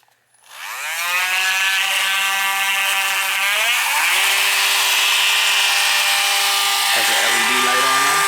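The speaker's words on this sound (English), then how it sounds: "Okay, using this Dremel. It's the micro model." A Dremel micro rotary tool with a carbide bit for aluminum winds up to a loud, steady high whine that shifts pitch as it loads up, running alone and close.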